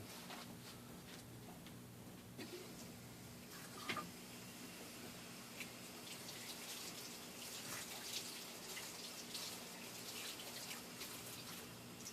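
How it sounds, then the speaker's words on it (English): Tap water runs steadily and fairly quietly in a sink while a Proto 2000 SW1200 model locomotive part is rinsed off, a continuous hiss with a few faint drips and clinks. "I'm going to wash it off and then I'm going to try the other side."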